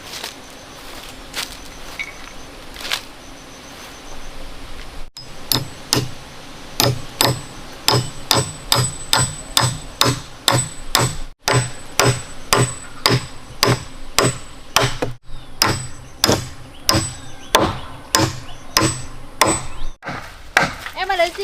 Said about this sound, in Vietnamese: Em ơi, đưa chị cái đinh với cái búa với.